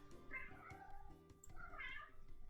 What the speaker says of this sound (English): Pippi's dying in the background if you couldn't tell.